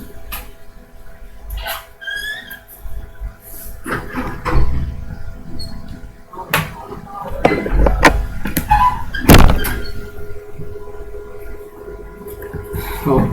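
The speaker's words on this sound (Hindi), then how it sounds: "बंद करो यार दरवाजा" A door is swung shut with creaking, squealing hinge noises and several dull knocks and thuds, fairly loud and close, amid a busy room with shuffling sounds.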